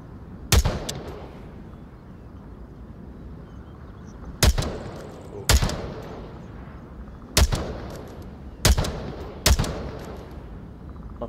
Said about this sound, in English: I should be able to make shots out pretty far.